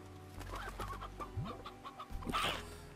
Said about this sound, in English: Are you not going to eat the chicken?